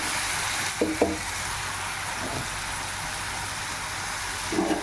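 Vetki fish fries with ginger garlic chilli paste in a pan, steady close sizzling broken by a few clinks and scrapes of stirring.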